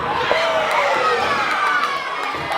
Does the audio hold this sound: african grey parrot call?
no